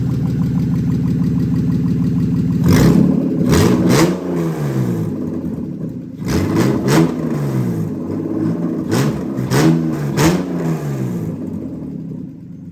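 A BMW E36 328ti Compact engine, fully warmed up with its cooling system still being bled, is revved in repeated sharp bursts that rise and fall back to a steady idle, loud and close with no talking.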